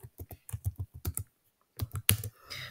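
Computer keyboard typing, quiet and close, in two short runs of crisp key taps with a brief pause between them.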